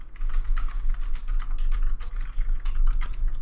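A computer keyboard clatters with rapid, uneven keystrokes while code is entered in a Blender Python script, the clicks close and crisp in a continuous run with short pauses.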